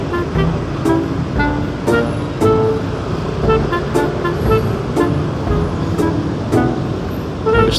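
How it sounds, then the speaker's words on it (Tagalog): Rush-hour road traffic heard from a Yamaha NMAX scooter ride in BGC: steady engine and road rumble with repeated short horn toots and clicks scattered throughout, close and continuous. "Ito ng traffic guys."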